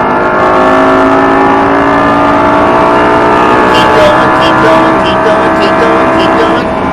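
A Lamborghini Gallardo accelerates hard on a race track, its engine drone loud, close and steady with pitch slowly climbing, and a voice speaks over it.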